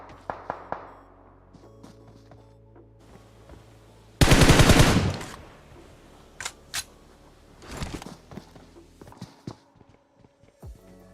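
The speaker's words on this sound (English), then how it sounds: "give him a little suppressing fire on this enemy team" Gunfire in PUBG Mobile during a competitive match: a loud sustained burst of automatic fire followed by scattered single shots and sharp clicks, with quieter game effects in between.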